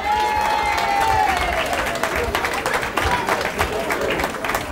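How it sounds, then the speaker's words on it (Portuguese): An audience at a Halloween night event in Portugal breaks into loud, sustained applause with crowd noise. A brief descending whistle-like tone opens the burst of clapping. "uma salva de palmas para eles"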